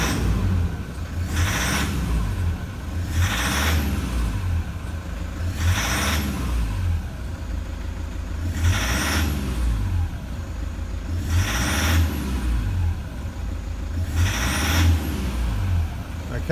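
A truck diesel engine still on its original injectors is revved repeatedly, six loud rising bursts at roughly two-second intervals over a steady rumbling idle, close by.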